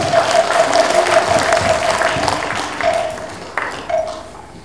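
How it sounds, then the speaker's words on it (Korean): A crowd applauds at a newspaper's 40th anniversary and inauguration ceremony, a dense burst of clapping in a hall that slowly thins and fades, with a ringing tone briefly audible. "여러분 큰 박수 부탁드립니다."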